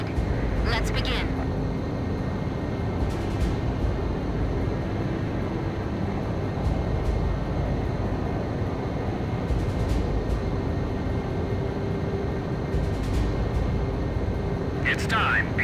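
Fighter jets in the Ace Combat 5 video game fly in close formation during a ceremonial flight, a steady loud low engine roar sustained throughout with faint transient whooshes over the top.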